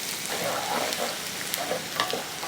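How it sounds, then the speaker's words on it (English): Chopped onion sautes in hot oil in a pan, giving a steady close sizzle with light crackles and stirring scrapes throughout. "Heat oil in a pan. Add chopped onion and saute until golden brown."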